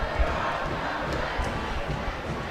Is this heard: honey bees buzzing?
no